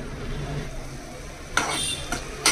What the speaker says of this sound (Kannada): ಶುಂಠಿ ಬೆಳ್ಳುಳ್ಳಿ ಪೇಸ್ಟ್ ಕೂಡ ನಾನೀಗ ಇಲ್ಲಿ ಫ್ರೈ ಮಾಡ್ತಾ ಇದ್ದೀನಿ